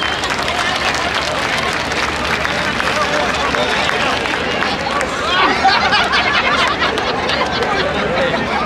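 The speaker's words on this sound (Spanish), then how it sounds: "Pido para ella un fuerte aplauso." A crowd at a Salvadoran festival claps steadily with dense, continuous applause, swelling slightly near the end, with some murmured chatter mixed in.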